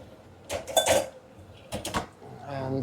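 A metal sieve clatters and clinks against dishes in a few quick bursts as it goes into a dishwasher, close by, then a soft rattle.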